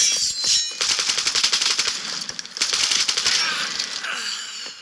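Rapid automatic gunfire from the video game Lost Light, a dense burst of sharp cracks and shots filling most of the stretch, loud and close, with a few brief pauses between volleys.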